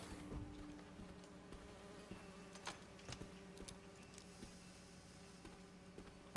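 Steady insect-like buzzing of mechanical drone bees in the Marvel's Spider-Man 2 game, a continuous hum with small flutters running the whole time against a lab backdrop, no talking.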